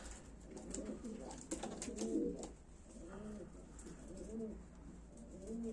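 Young pigeons coo softly in repeated low bubbling phrases, fairly close, with some faint rustling and no one speaking.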